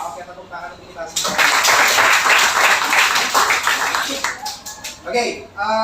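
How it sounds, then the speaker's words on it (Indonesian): Audience clapping at a campus teacher-training session, a dense burst of applause rising abruptly, holding steady for about three seconds, then thinning out into scattered claps with a voice near the end. "tepuk tangan untuk kita semua"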